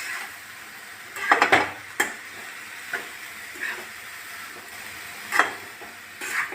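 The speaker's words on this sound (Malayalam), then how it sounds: "മഞ്ഞൾപ്പൊടി, നന്നായിട്ട് ഇളക്കി റെഡിയാക്കുക." A spoon stirs turmeric powder and salt into a frying mixture in a pan, giving scattered metallic scrapes and clinks over a faint sizzle with quiet gaps between strokes.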